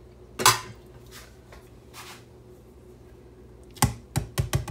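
A knife slicing through meatloaf cooked in an Instant Pot, heard as a cluster of sharp scraping clicks against the dish, then a short burst of quick taps and knocks near the end; close and fairly quiet, no talking.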